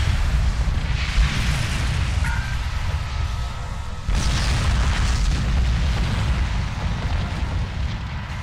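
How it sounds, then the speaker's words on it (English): High-yield torpedo explosions boom in a Star Trek Online space battle, a continuous roaring rumble with a sharp fresh blast about halfway through, loud and without talk. "He needs a high-yield torpedo."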